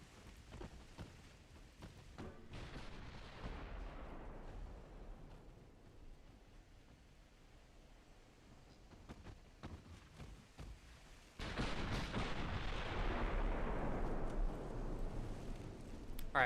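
Naval guns fire HE shells in the Ultimate Admiral Dreadnoughts game, heard as dull distant booms and rumbling blasts under a continuous noisy wash that swells louder near the end.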